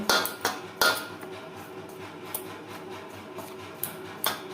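Flour is mixed with salt and refined oil in a bowl for Dhakai paratha dough: a quiet backdrop broken by a few sharp clinks and knocks of a utensil against the bowl, with no talking.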